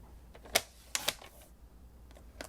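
Paper card being trimmed at one end on a cutter, with a few sharp, faint clicks and snips spaced over a couple of seconds in a quiet room.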